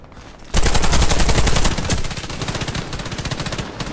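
Rapid bursts of gunfire in the game Warface, loud and dense, starting after a brief quiet moment and continuing as a fast rattling stream that eases slightly toward the end.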